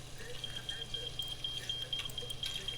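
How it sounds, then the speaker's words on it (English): Smoke alarm sounding in the Octodad: Dadliest Catch video game after food smokes on the oven, a rapid run of evenly spaced high electronic beeps with a voice talking over it. "put it on the oven, which will cause it to smoke and sound the alarm."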